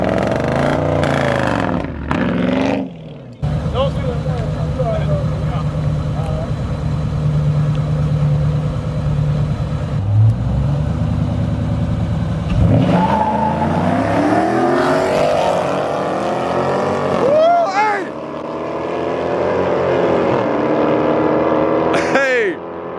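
Camaro SS and Dodge Challenger street racing, engines roaring and revving loudly with rising passes, mixed with crowd talk and shouting throughout.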